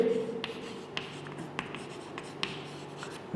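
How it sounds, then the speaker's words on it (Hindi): Marker or chalk writing on a classroom board during a civics lesson: a steady faint scratching with small tapping strokes at irregular intervals, close by and without talk. "अब मैं लिखता हूँ"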